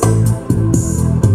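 A Roland BK-3 arranger keyboard runs a Kherwa rhythm, a short looping groove of bass notes, sustained chords and crisp percussion accents, loud and close with no talking.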